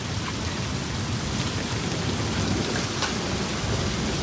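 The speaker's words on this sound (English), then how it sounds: "the rain's still going, but the hail is kind of tapering off" During a May storm, hail and rain fall steadily as a dense, even hiss of drops striking the surfaces nearby, continuous and unbroken, with no voices.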